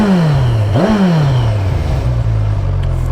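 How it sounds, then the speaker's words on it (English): Kawasaki Versys 1000 SE's 1043cc inline-four on its stock exhaust, warmed up and revving once with a sharp pitch rise and fall, then settling to a steady close idle with a higher-pitched whir. "I think it sounds pretty good for a stock exhaust."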